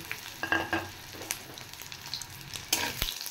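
Pieces of fried fish go into hot oil, giving a faint, patchy sizzle with scattered crackles and a louder hiss burst near the end.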